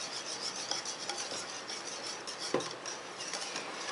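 A spoon scrapes and swirls through an orange cream ice cream mixture to dissolve the sugar, a soft continuous rasping stir with faint clicks against the bowl, quiet and steady with no talking.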